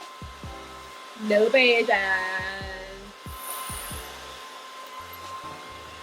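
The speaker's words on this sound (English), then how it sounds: "I'm trying to yell over the fucking blow dryer" A hair blow dryer runs on high heat while styling a wig, a steady airy whoosh filling the background throughout as someone talks over it.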